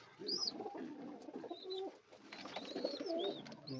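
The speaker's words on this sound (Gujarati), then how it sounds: "એક આપણે આમાં છે કબૂતર, આ તમે જોયું નહીં હોય" Several pigeons coo softly in a group, their low burbling calls overlapping in an uneven rhythm, with a few higher chirps and light rustling in the background.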